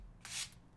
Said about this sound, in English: So I'm gonna take my sandpaper,